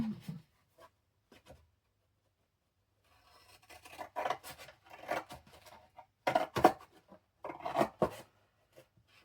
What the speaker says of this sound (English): So I'm going to cut this down here.